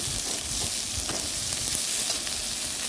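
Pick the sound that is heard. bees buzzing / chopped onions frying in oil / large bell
chopped onions frying in oil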